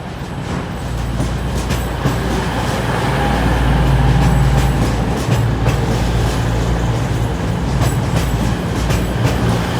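An East Midlands Railway train pulls into Sheffield station, a loud, close, rumbling roll with low engine drone, rhythmic wheel clatter and faint metallic squeal building and holding throughout.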